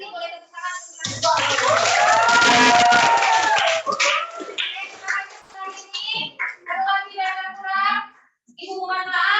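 Schoolchildren in a classroom burst into a few seconds of loud, dense applause mixed with cheering. Children's voices and chatter follow after it.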